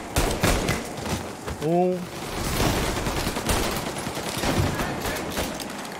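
Pistol gunfire in the video game Mafia Definitive Edition: loud rapid shots cracking in bursts throughout amid game noise, with a brief vocal murmur partway through.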